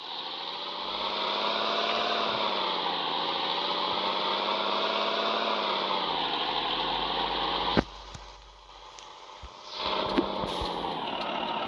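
A road vehicle's engine pulls hard under acceleration, its droning pitch rising and stepping with gear changes, then briefly drops away before building again near the end, with no talking.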